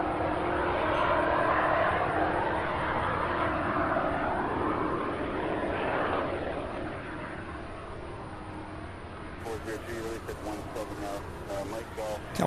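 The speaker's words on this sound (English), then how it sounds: "That 747 is coming in for a landing now." A Boeing 747 comes in to land at Louisville International, its broad engine roar strong at first and slowly fading over several seconds. Faint voices are heard toward the end.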